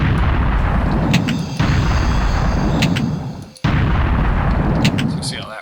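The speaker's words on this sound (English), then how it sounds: "Here's the blunderbuss. It's the gun he gets eventually. Here's primary fire. Here's alternate fire." A blunderbuss from the video game Wrath of Cronos fires its primary and alternate shots: loud, close booming blasts in three heavy bursts, each followed by a short rumbling decay.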